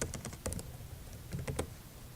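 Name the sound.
computer keyboard typing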